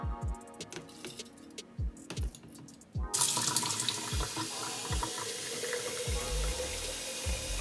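Tap water runs into a kitchen sink while rice is rinsed in a small strainer, starting with a few ticks and knocks before a steady close, loud splashing stream takes over for the rest.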